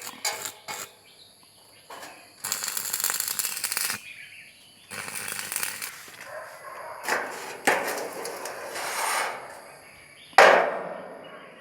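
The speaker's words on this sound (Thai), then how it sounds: "ก็ให้ทำการเชื่อมติดเลยนะครับ" Arc welding on steel roof rafters for a low-pitch, 5-degree modern roof frame, heard as several separate bursts of harsh crackling with quiet gaps and clicks between them.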